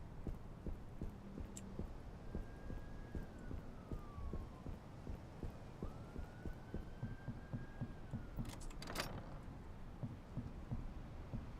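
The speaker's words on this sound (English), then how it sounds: "It's interesting that there's European sirens, but there's so many of them that it might as well be an American city." European-style two-tone sirens wail in a video game city, rising and falling at a distance beneath a steady, loud throbbing rumble, with a sharp burst of noise near the end.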